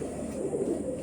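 Garra pigeons, a giribaj breed, give a low continuous throaty coo, close and moderately loud, with no other sounds over it.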